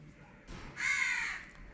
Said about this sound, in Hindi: और परिंदे चहचहा रहे हैं।